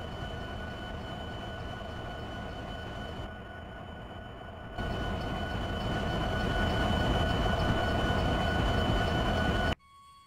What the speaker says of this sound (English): we're going to take this train, pull it forward, and back it up to get these cars as well